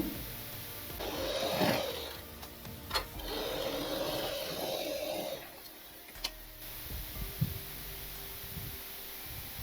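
Sewing machine stitching a skirt and blouse, running in two bursts of rapid mechanical whirring with brief pauses and a few clicks between them, close and steady.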